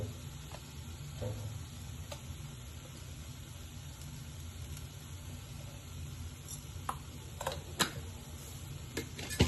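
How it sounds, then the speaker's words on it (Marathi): Steady soft sizzling of masala frying in oil in a kadai until the oil separates, for a fresh pigeon pea amti, continuous and close, with a few faint clicks and scrapes near the end; no talking. "हा मसाला घुंटू तेल सुटे होईपर्यंत"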